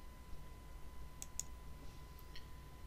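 A computer mouse clicks in automation testing software: two quick, faint, sharp clicks close together, then a softer tick a moment later, over a quiet room hiss.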